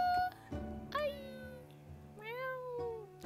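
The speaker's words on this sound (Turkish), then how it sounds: "Hanınıza bir kedi geldi." Two drawn-out meows from a cat in the cosy tavern-management game Travellers Rest, close and clear over a soft, steady game background hum.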